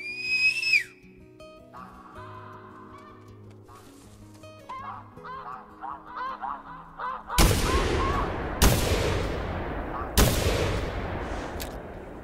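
Geese honk in a duck-hunting video game, theHunter Classic, with layered calls over a soft background, then three loud, close shotgun blasts ring out in quick succession, each followed by a short decaying echo.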